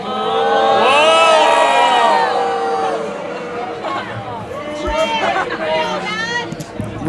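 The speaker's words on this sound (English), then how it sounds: "I like how the crowd disagrees with him" Political event crowd at a Charlie Kirk appearance erupting in loud disapproving shouts and jeers, a dense swell of many voices that fades then rises again, with individual yells standing out near the end.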